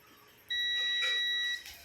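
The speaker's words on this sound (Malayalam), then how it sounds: "നേരെ ബീപ്പ് സൗണ്ട് നോക്കണം, ബസർ സൗണ്ട്." A multimeter set to continuity gives a single steady electronic beep of about one second while testing a self starter motor, clear against quiet background.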